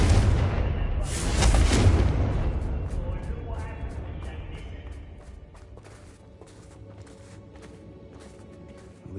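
Confringo spells explode in Hogwarts Legacy, starting with a loud, close burst that booms and then fades into a long crackling decay. Small sharp debris clicks and patters scatter afterward, and no voice is heard.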